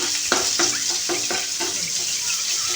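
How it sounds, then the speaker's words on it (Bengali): Onions with a little salt fry in a pan, a steady sizzle broken by about five rhythmic scraping strokes of stirring, close and moderately loud with no talk. "পেঁয়াজগুলো ভালো করে নাড়াচাড়া করে নিচ্ছি"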